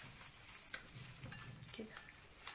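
Fish with salt, cumin and spices being turned and stirred in a little oil, producing soft, close scraping and rustling strokes over a faint sizzle.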